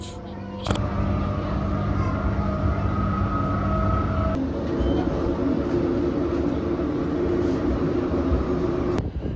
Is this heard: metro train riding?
yes